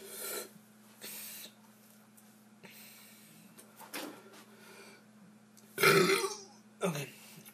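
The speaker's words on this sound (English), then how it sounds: "burping video, let's go" Several loud burps spread across a quiet stretch, the biggest two near the end, each a short throaty eructation with no talk between them.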